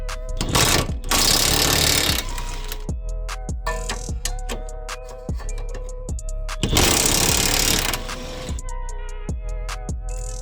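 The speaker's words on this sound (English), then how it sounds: "we're going to be taking off these two big bolts right here" Two large 19 mm rear suspension bolts are worked loose on a 2002 Toyota MR2 Spyder, with loud bursts of a power impact tool broken by rapid, repeated metallic clicks and ratcheting taps close to the car.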